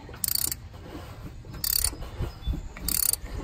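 A ratchet turns counterclockwise to loosen a spark plug on a Honda Pilot, giving three short bursts of rapid clicking separated by pauses, close up and fairly loud over a low rumbling background.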